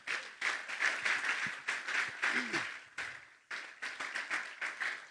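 A church congregation claps in quick, rhythmic unison, the beats swelling and easing in repeated waves with a short pause midway, while a voice briefly sounds underneath.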